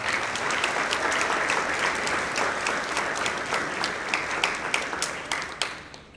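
Audience applause at a high school football banquet, a full steady round of clapping that tapers into distinct individual claps before fading out.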